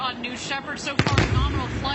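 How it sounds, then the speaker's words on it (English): The descending Blue Origin New Shepard rocket booster sets off a sonic boom, a sharp double crack followed by a brief rumble, heard under a commentator's ongoing live broadcast narration. "what you just heard here was a sonic boom as the rocket comes back down to Earth"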